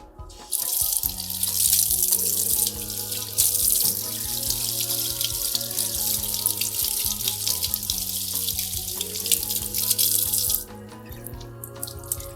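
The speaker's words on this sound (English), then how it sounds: "And then you're going to turn the water on and rinse it out." Tap water runs into a sink to rinse a wig, a loud steady rushing stream that starts after a second, varies as the wig moves under it, then cuts off near the end.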